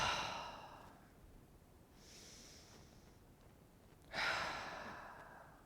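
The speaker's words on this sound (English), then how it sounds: "take a couple deep breaths, just normal but big. Inhale and exhale." Slow deep breaths, a long audible exhale, a softer inhale, then another strong breath out, close and quiet with nothing else around.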